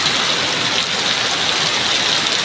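A downpour of heavy rain drums down in an unbroken, loud hiss with gusty wind, the sound close and constant and no one speaking.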